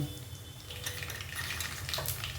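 Fenugreek seeds, urad dal, chana dal and mustard seeds hit hot oil with a close, steady sizzle and crackle, with faint pops and a light stirring scrape throughout, no talking.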